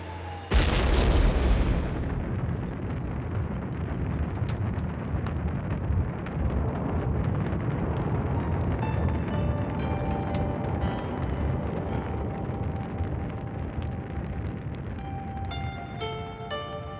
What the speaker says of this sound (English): one of the fires exploded with unprecedented fury